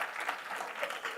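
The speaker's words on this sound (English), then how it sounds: "now you can clap" Steady applause from a seated audience at a satsang gathering fills the space, a dense wash of many hands clapping at once with no break.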